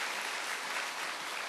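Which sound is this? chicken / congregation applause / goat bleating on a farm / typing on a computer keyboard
congregation applause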